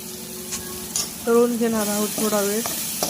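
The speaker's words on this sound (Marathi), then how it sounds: "मिक्सरमधून काढलेली पेस्ट आपण तेलामध्ये तळून घेणार आहोत" Green chili paste sizzles and spits in hot oil, with a spoon stirring and scraping the pan while faint voices sound in the background.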